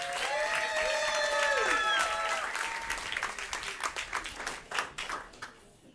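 An audience claps for a group of young farmers at a sustainability event, the clapping loosening into scattered claps as it fades, with sustained tonal sounds like voices or a cheer over the first two seconds.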